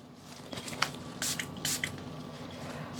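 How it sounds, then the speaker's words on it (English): A spray bottle gives a few short spritzes while resin project pieces with gritty neon powder are set up, the bursts quick and close over a quiet room hum. "we'll give those a little spritz"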